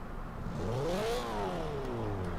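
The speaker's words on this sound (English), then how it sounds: "Let's hear the engine." A car engine in the Forza racing game revs up and then eases off, the rising and falling pitch sweeping across a couple of seconds, loud and up front, with no one talking.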